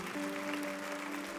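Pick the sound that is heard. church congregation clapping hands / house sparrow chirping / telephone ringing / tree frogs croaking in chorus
church congregation clapping hands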